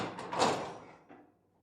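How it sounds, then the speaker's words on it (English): A door bangs shut and is locked in a spoken ghost story set in a secret room: a sharp wooden knock, a brief decaying ring, then a small faint click as it settles into quiet. "The Earl locked the door"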